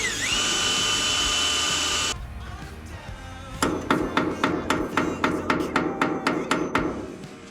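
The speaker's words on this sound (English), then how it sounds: "now we're going to drill into the existing holes and then just use some oversized screws to put them in" A power drill whines loudly for two seconds, then a rapid series of about a dozen sharp impact-like bursts follows as it drives into existing holes on a dump truck to fit oversized screws.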